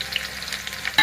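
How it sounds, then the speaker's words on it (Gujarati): Mustard seeds and garlic hit hot oil together in a pan for Gujarati vagharelo chana no lot, giving a brief, close crackling sizzle with a sharper burst at the end. "આપણે રઈ અને લસણ બે ભેગું નાખી દેવાનું એટલે લસણ બળી ના જાય."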